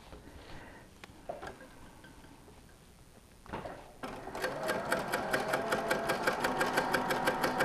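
A sewing machine stitches quilt wedges together, starting after a few quiet handling sounds and then running in a fast, even, rhythmic whir, close and steady.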